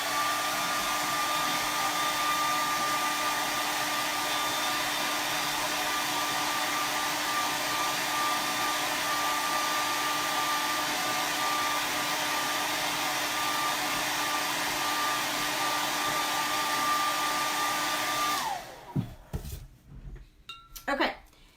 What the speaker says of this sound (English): let me hit it with a hairdryer right quick